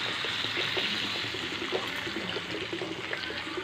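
Water is poured into a wok of simmering potato curry with a continuous rushing, splashing wash over the bubbling pan, close and steady throughout with no voices.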